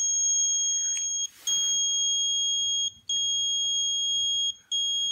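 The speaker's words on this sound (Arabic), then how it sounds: "يبلش يعطي انذار." Fire detector alarm on a PIC microcontroller fire security system, a steady high electronic beep tone sounding continuously with three short gaps, loud and close, over faint background noise.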